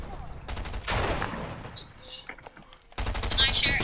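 Rapid bursts of gunfire from a shooting video game crackle close and loud, break off into a short lull of scattered sounds, then resume in another dense burst.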